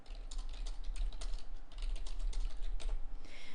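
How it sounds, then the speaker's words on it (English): Steady rapid typing on a computer keyboard in a quiet room, irregular clusters of close key clicks running continuously over a low background hum with no voices. "I'm going to type this as I say it."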